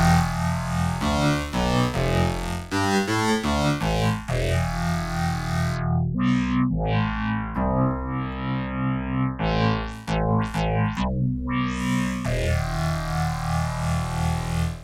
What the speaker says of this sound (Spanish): tal vez algo de distorsión convenga